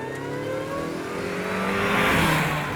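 A supercharged Mazda MX-5 Miata accelerating hard in second gear on an open road, heard from inside as a steady rising engine note with supercharger whine, loud and continuous with no talk.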